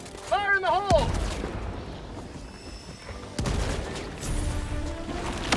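A grenade blast and gunfire in a shooter video game: heavy booming bursts with rumbling tails, one near the start and another midway, amid game voices and effects.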